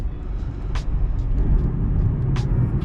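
A taxi car driving on city streets in Odesa in the early morning, heard as a steady low engine and road rumble from inside the car, with a couple of faint higher sounds passing over it.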